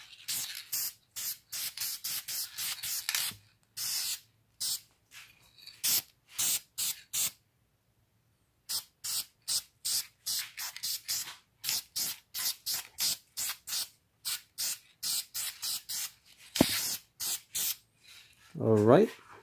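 A brake caliper being spray painted with an aerosol can, many short, sharp hissing bursts in quick rhythmic succession with a few brief gaps, close and clear.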